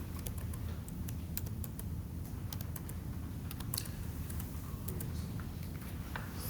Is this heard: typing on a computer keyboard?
yes